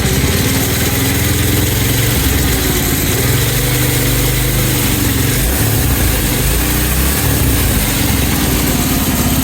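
Small go-kart engine mounted on a $50 Amazon axle kit with a warped brake disc, running loud and close with a steady droning rumble and a slight rise as it is given gas.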